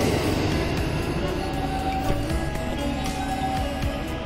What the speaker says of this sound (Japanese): 奥からやってきた列車はですね